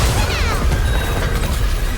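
A crystal chamber shatters in the Nikke video game with a loud, dense crash and a spray of ringing, glassy debris over a rumbling low end that keeps going for about two seconds.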